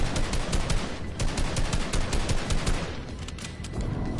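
Sustained automatic gunfire in a video game fills the whole stretch with rapid, dense, loud shots. The rattling fire runs without pause and has no talk over it.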